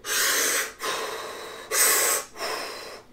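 A diver breathes hard through a scuba primary regulator, giving four loud, close hissing breaths, each lasting under a second, with brief gaps between them and no talking.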